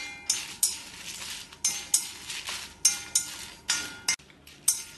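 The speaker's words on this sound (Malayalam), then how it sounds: "ഇതിനി കുറച്ച് സമയം മടക്കി വറുത്തെടുക്കാം." A utensil scrapes and clinks against a pan while coriander seeds and dried red chillies dry-roast, with about a dozen sharp, evenly spaced stirring strokes heard close and fairly quiet, without talk.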